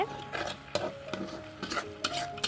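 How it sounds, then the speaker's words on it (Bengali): A spatula stirs bitter gourd fry in a pan, giving several separate scraping, clinking strokes spaced unevenly, each short and fairly close, over a faint background hum. "ভাজাটা একটু নাড়াচাড়া করে দিলাম"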